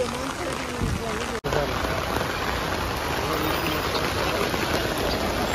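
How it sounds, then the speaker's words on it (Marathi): Rain falls steadily at a busy vegetable and tomato wholesale market, a continuous close patter with a faint engine and distant voices underneath. "पाऊस पण चालू आहे आता."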